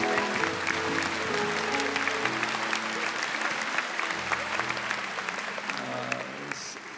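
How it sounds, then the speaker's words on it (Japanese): An audience at an evangelistic gathering in Yokohama applauds in a sustained, dense roar of clapping that runs throughout, with a faint low tonal hum beneath. "その隣にいる人に拍手を送ってください"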